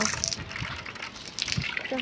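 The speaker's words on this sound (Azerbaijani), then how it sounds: "Yağış sularını böyle yığıram. Qablara doldururam." Rainwater gushes and splashes into containers outdoors on a windy day, a close, uneven pouring and trickling sound heard alongside talking.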